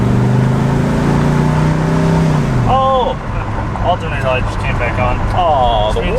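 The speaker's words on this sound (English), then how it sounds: "I revved it hard enough for the fuel wire to fall off the back of it." A Ford Ranchero engine revs hard, its low steady drone dropping off after about three seconds into a rougher idle, while a voice talks over the second half.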